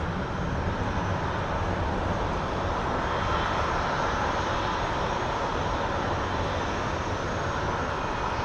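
An airliner departs Phoenix Sky Harbor airport bound for LAX, its engines making a loud, steady jet roar that holds broad and unbroken throughout, with no voices.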